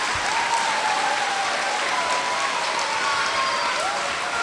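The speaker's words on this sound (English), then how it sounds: "Please join me in giving our staff a round of applause for their unwavering passion." A school audience gives the staff a round of applause, dense, steady clapping filling the room at a constant loud level throughout, with no talk over it.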